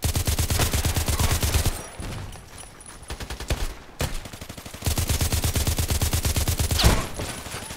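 Rapid automatic gunfire rattles loudly in long sustained bursts during a Contract Wars match, pausing briefly between strings of shots, with a sharp crack near the middle.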